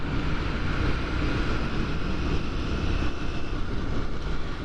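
Heavy wind buffets the rider on a Royal Enfield naked motorcycle at a demo day in Cardiff, a loud, constant roaring rush with low rumble underneath and no break, no speech heard.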